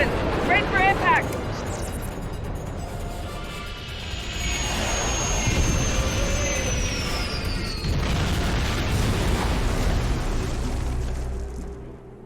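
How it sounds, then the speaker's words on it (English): A starship crash-lands in the Star Trek Online video game, with heavy rumbling booms, a descending whine and a sustained roaring impact that fades away at the end. "Get us on the ground, Commander. Crash position. Ready for impact."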